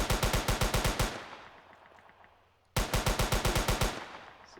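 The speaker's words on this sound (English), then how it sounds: "So you can see I got gunfire audio now." Two loud bursts of rapid automatic gunfire in the video game Derelict, the first fading into quiet reverberation before the second begins abruptly.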